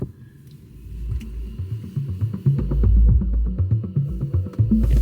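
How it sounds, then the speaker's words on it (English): In a Mercedes CLE seat, the massage motor runs with a low, pulsing throb repeating in a quick rhythm, close and moderately loud, growing stronger partway through, with no speech. "the massage and signs of this seat have all just started going mad"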